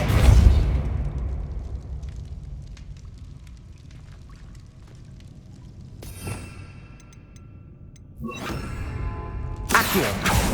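A Depulso spell in Hogwarts Legacy goes off as a loud burst at the start, then fades into a low hum. Sharp whooshing bursts follow around six, eight and ten seconds.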